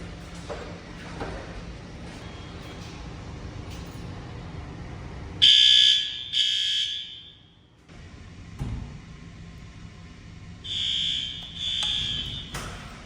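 A fire alarm horn under test in a middle school crawlspace gives two loud bursts of harsh, high-pitched buzzing, each lasting a couple of seconds, with a quieter stretch of background noise between them.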